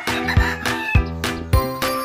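Fighting roosters crowing in a game-farm yard among hardening and breeding pens shaded by mango trees, several loud overlapping crows in quick succession, close by.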